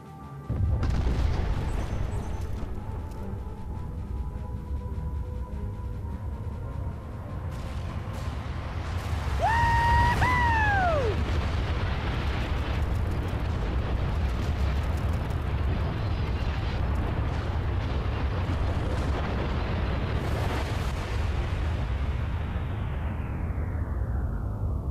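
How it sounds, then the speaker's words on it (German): Video game explosions: deep rumbling booms roll on continuously with heavy low-end weight, a rising and falling tone sweeping through the middle, then a sustained roar that slowly fades. "Ah, gut, da kommt die Explosion"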